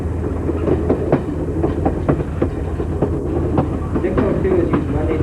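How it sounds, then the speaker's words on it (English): A 1952 EMD SW diesel-electric switcher locomotive hauls a passenger train, its steady low rumble joined by repeated clickety-clack of wheels over rail joints, heard continuously from a close trailing car. "the engine giving us our power today is number 602, a 1952 diesel electric SWA EMD"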